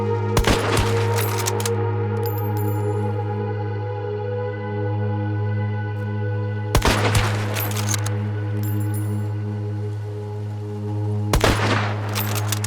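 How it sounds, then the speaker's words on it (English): Gunshots in the video game Hunt: Showdown, three sharp loud bursts of rapid shots spaced several seconds apart over a steady low hum. "a place echoing with the sound of relentless gunshots"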